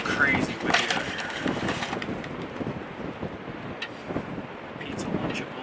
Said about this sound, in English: It's just so windy out here.